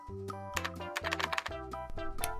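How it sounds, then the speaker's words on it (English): A child bangs on a computer keyboard, a rapid irregular cluster of loud, clattering key strikes close by, with no pauses longer than a beat. "Why work when you can have fun just hitting the keys?"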